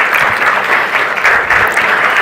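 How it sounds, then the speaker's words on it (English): A seated audience in a university auditorium gives a steady, loud round of applause for an OpenAI speaker, dense clapping sustained evenly throughout with no voices over it. "A huge round of applause to Mr. Srinivas Narayanan"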